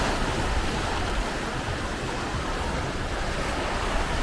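Ocean surf rolls steadily beneath a balcony and terrace overlooking the ocean, a broad continuous wash of breaking waves with some wind noise, fairly loud and unbroken, no voices.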